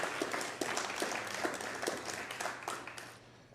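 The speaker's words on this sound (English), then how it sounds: "Another round of applause for Katie Richardson." Audience applause at a business award ceremony, a dense, sustained wash of many hands clapping that eases off near the end.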